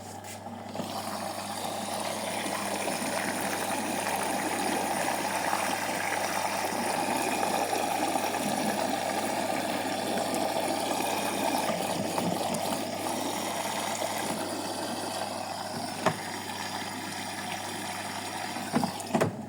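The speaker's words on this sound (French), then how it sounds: "Voilà, la machine se met en eau." A machine filling with water during a cleaning job, a steady unbroken rush and trickle of flowing water, close and continuous with a faint pump hum underneath and a couple of small clicks near the end.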